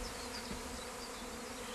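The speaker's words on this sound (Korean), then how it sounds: "기존의 여왕벌이 일벌을 데리고 나온 분봉 장면을 처음 본다네요" Honeybee swarm leaving the hive with its old queen and workers, a steady dense buzzing hum filling the air evenly throughout, fairly faint and with no voices.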